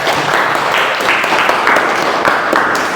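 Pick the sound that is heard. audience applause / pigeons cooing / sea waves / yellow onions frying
audience applause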